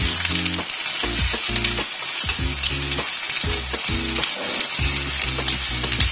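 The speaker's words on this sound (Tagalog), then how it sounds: "haluin lang ang haluin natin hanggang maghalo sila" Sweet and spicy bagoong alamang shrimp paste with sugar sizzles and hisses steadily in a pan as it is stirred. The loud, continuous frying noise runs under background music.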